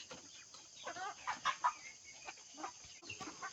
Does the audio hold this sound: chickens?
yes